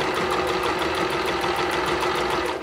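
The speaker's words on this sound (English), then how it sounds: "we are sewing around everywhere else" A sewing machine runs steadily and close, stitching around the edges of a pillow made from Ikea kitchen towels, with a fast, even mechanical rhythm and no voices.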